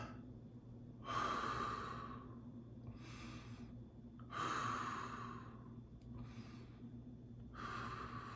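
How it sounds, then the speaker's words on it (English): Slow, deep breathing exercise done close to the microphone, with several long airy inhales and exhales in a steady rhythm over a quiet low hum, no talking. "Take a deep breath."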